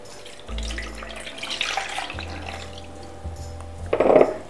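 Milk poured into a mixing bowl for a marble cake batter, a low steady liquid stream close by, swelling briefly into a louder splash near the end.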